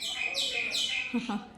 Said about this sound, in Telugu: పక్షులు తెగ అరుస్తున్నాయి